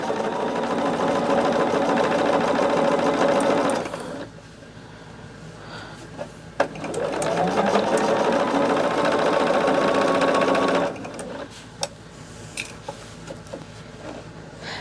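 A domestic sewing machine stitching fabric runs in two steady bursts, one for roughly four seconds and another for about four more, with quiet pauses and small handling clicks between them; nobody speaks.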